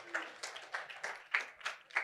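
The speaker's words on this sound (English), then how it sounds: "Give me a round of applause." A small audience claps in a short burst, a handful of distinct, evenly spaced claps over about two seconds, fairly close and modest in volume.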